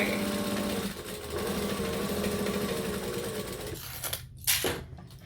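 A sewing machine stitching and back stitching a clutch bag, a close rapid mechanical whirring hum that runs steadily, briefly changes pace, then stops and restarts in short bursts near the end.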